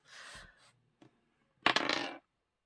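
Dice rattle and tumble across a surface in two short bursts, the second louder and clattering, close by in a quiet room during a UK cash-stuffing budget session.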